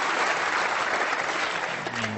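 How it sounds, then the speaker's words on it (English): A snooker crowd at the World Championship applauding a shot, dense sustained clapping filling the hall at close range, easing slightly at the very end. "the Ali Carter camp giving him a terrific round of applause for that shot"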